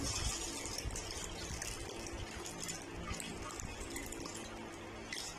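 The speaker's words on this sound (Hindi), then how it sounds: "ऊपर से ठंडा पानी डालेंगे।" Cold water pours and splashes steadily for several seconds through a strainer over a dessert mixture, a dense running wash with bright splashy detail throughout.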